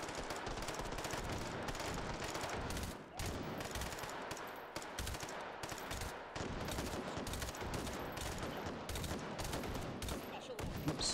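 Gunfire in the VR shooter Hot Dogs, Horseshoes & Hand Grenades: dense, rapid bursts of automatic shots with brief pauses between volleys, loud and close.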